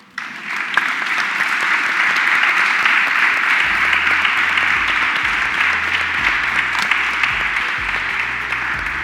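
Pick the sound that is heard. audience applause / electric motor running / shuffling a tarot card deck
audience applause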